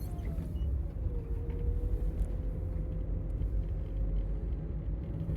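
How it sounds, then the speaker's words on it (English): Lorry engine on the road, a steady low rumbling drone with a faint sustained whine that dips early on and then holds level throughout. "That poor lorry's never going to get anywhere, is he?"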